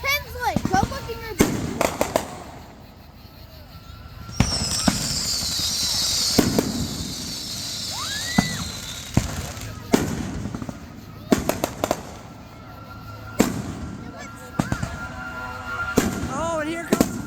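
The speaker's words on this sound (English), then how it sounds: "I'm sure somebody did something with fireworks." Fireworks explode in repeated sharp bangs and crackles at a church gathering, some near and loud, with a whistling rocket rising, while people talk throughout.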